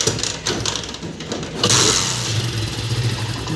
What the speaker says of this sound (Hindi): ये गाड़ी बिल्कुल स्टार्ट हो गई।